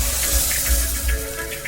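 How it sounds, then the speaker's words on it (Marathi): Water is poured into a pan of roasted vegetables for a Bhogi festival vegetable dish. It makes a steady, close gushing stream that lasts the whole moment, with no speech. "आता यामध्ये मी पाणी घालून घेणार आहे."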